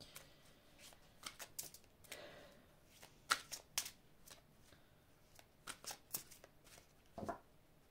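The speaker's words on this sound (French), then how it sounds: "je vais vous prendre maintenant 2 cartes" Tarot cards shuffled and drawn in a card reading: a run of crisp riffling and flicking bursts, with sharp snaps as individual cards are pulled, close and clear with no talk.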